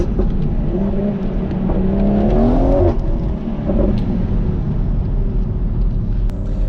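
A BMW M240i with a limited-slip differential hums and revs steadily while driving on country roads, with a low continuous rumble and a brief rise in pitch as it accelerates.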